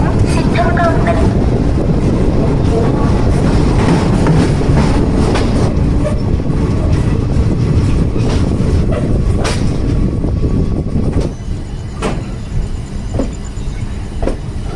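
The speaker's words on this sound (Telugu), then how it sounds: "సాయినగర్ షిరిడి కాకినాడ ఎక్స్ప్రెస్ ఒకటవ నెంబర్ ప్లాట్ఫామ్ నుండి బయలుదేరుటకు సిద్ధంగా ఉన్నది" Sainagar Shirdi–Kakinada Express leaving platform one at a station: a loud, continuous rolling rumble with clickety-clack wheel rhythm and occasional squeals, easing slightly near the end, with voices underneath.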